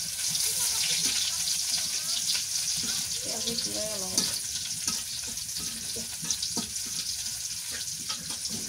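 Whole cumin and chopped onion fry in oil for a Bengali home-style dish, a continuous moderate sizzle with stirring sounds and a brief watery trickle midway; a voice speaks faintly beneath at times.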